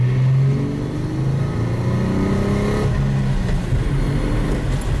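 A Nissan Skyline R34 running after a coil pack fix, its engine droning loud and steady from inside with a rising, shifting tone as it pulls along.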